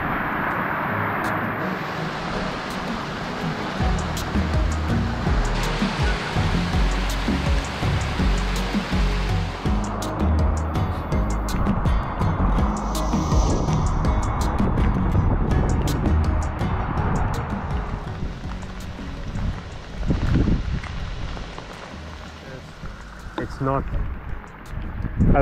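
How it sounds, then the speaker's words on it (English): Storm water pours in from a hillside toward a dam and road after heavy rain, a loud steady rushing flow that swells and eases, with a person talking over it. "the water is coming in from the hillside"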